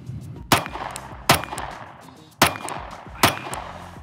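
A Glock 43X slimline subcompact pistol fires four sharp, loud shots at uneven intervals, each crack decaying quickly into a brief echoing tail.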